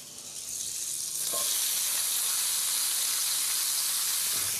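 A knob of butter hits a hot pan and sizzles, the hiss rising within the first second and then holding a steady, close, bright fizz.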